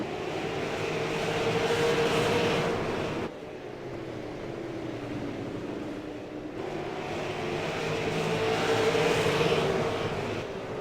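Stock race cars lapping a speedway at Lanier National, engines swelling as they pass near and fading between passes, a sustained roar with a tonal whine and no speech.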